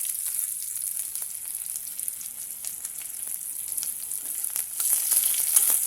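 Chopped onions fry in hot oil after bay leaves go in, a continuous bright sizzle with faint crackles, close and steady, picking up slightly toward the end. No one speaks.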